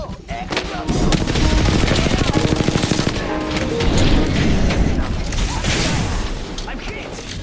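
Rapid automatic gunfire in the video game Apex Legends, a sustained loud burst of shots with clattering mechanical sounds and explosive booms, under game voice lines.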